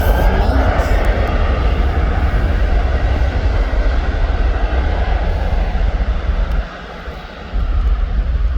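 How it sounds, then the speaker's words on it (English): EasyJet passenger jet at Birmingham Airport, its engines a loud continuous roar close by that holds steady, dipping for a moment near the end before returning. "Then we got the EasyJet flight."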